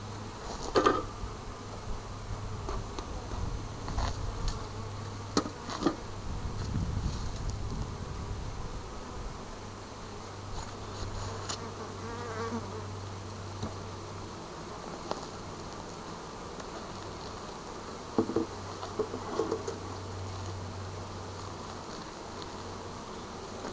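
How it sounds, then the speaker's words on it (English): Honey bees buzzing softly in an opened hive with the cover lifted, a steady faint hum with occasional rustles and handling knocks close by. "you can see the little happy bees on the inside of the cover"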